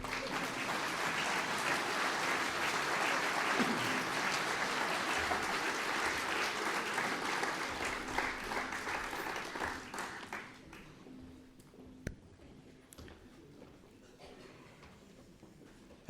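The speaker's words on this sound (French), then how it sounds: "Applaudissez-les, ça meublera." An audience at a French New Year's greetings ceremony for local community figures applauds loudly and steadily, then the clapping thins and fades into scattered claps and room noise.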